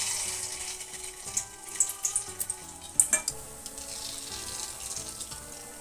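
A batch of crispy rice-flour snacks fries in hot oil, a steady bubbling hiss with a cluster of sharper pops and crackles near the middle, close and moderately loud with no talking.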